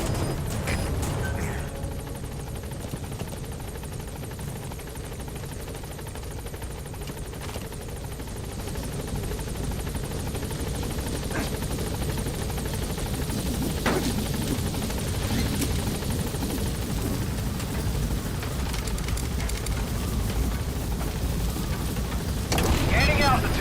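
The B-Quad support helicopter in Metal Gear Solid V approaches a landing zone, a steady rotor drone and whine continuing throughout at moderate level, growing slightly louder toward the end.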